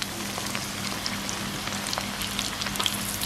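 Battered squid sizzling in hot oil, a steady dense crackle of frying with scattered brighter pops.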